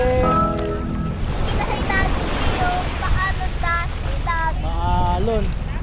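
Rough, choppy sea at Boracay beach gives a constant, loud rush of surf and wind across the whole stretch, with people talking over the noise.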